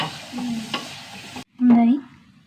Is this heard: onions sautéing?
yes